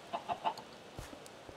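A Minecraft chicken on a rooftop gives three quick, quiet clucks in a row, followed by faint game sounds and soft thuds with no talking.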